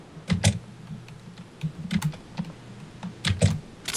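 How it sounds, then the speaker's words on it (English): Bursts of computer keyboard typing, clustered keystrokes in quick flurries separated by short pauses, close and fairly loud with no talking. "again with the keyboard"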